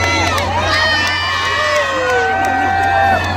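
A concert audience at an outdoor Korean music festival in Gurye cheers loudly and steadily, with whoops and high shouts rising from a dense crowd throughout.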